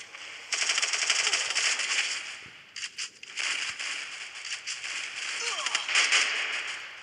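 Rapid gunfire in the Free Fire battle royale game crackles in sharp bursts, with brief gaps between volleys, fairly near and bright over a quiet background.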